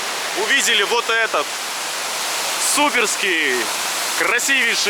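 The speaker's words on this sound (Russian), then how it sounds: "высокий водопад в Ингушетии" A tall waterfall in Ingushetia in wet, muddy weather gives a steady broad roar of falling water, heard close and loud beneath someone talking excitedly.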